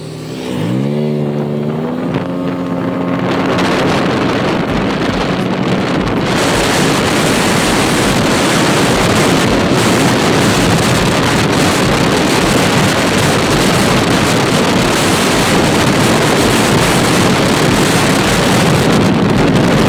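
A Honda Beat scooter fitted with a custom pulley revs up from idle, its engine rising in pitch over the first few seconds. Loud, steady riding noise and heavy wind buffeting follow without a break, with no voices.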